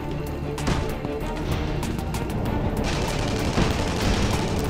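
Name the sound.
gunfire in Tribes Ascend video game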